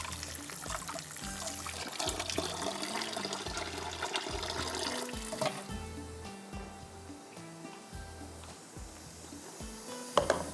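Running water pours steadily over food being rinsed in a kitchen, a continuous splashing flow with gurgles and a clatter at the end.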